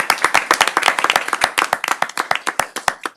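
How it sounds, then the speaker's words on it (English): A small group at a city council meeting claps for the finance team, sharp distinct hand claps in an uneven cluster, close and fairly loud, with no voices over them. "give them a round of applause for their hard work in this process"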